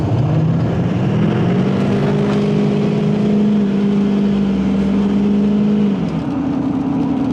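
A tow truck rig pulls away hard, its engine pitch climbing steadily through a long rev before shifting to a new note near the end, loud and up close with no speech.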